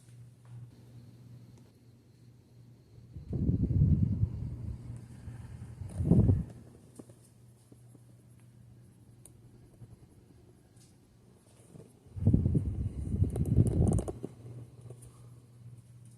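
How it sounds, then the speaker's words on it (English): A Hunter 2nd Century 52-inch ceiling fan with gloss oak blades runs at medium speed, giving a low steady motor hum and soft air whoosh, with a few louder swells of rushing air. "The medium speed is performing like a K55 fan, and the RPM is like an El Cheapo fan on high speed."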